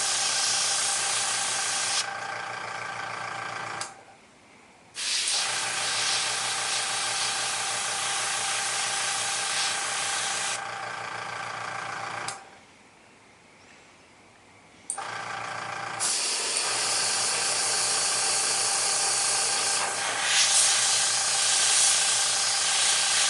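Airbrush spraying paint onto a Batman figure head, a steady close hissing spray in long bursts broken by two short pauses.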